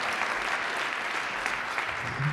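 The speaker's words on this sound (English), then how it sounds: "give them a round of applause" Audience applause at a 1 Million Cups Kansas City startup pitch event, a steady wash of clapping hands filling the room at moderate level throughout, without pauses.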